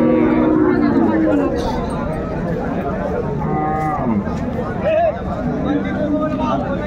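Lowing from a cow kept with her calf at a busy Raniganj livestock market, a few drawn-out moos rising over steady crowd chatter and nearby talk.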